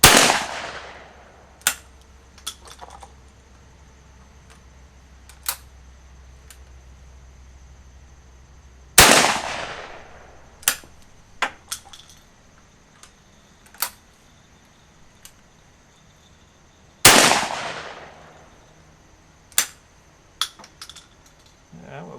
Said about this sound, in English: let's go ahead and try some of the buckshot just for shits and giggles here